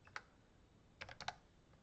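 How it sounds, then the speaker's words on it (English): Keystrokes on a computer keyboard, a single tap followed by a quick cluster of four or five clicks, close and fairly quiet in an otherwise still room. "oops, bumping the wrong keys"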